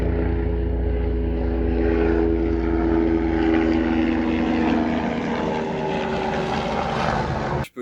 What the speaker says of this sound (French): Là j'attends parce qu'il y a un hélicoptère qui est en train de passer